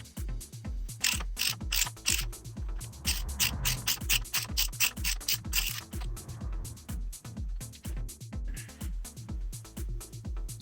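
Mechanical ratcheting and metallic working noise from a wrench removing the belt tensioner nut on a Lotus Esprit engine during cylinder head removal; rapid repeated clicks and grinding strokes, loud and close, with no talking.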